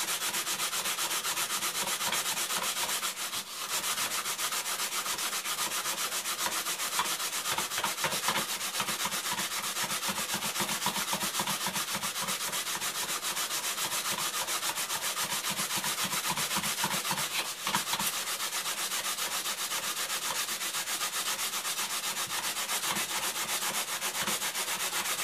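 A meat grinder knife is rubbed steadily against an abrasive surface to sharpen it, producing continuous close, loud gritty scraping with a fast back-and-forth rhythm throughout and no talking.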